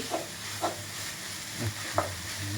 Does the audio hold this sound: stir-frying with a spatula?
yes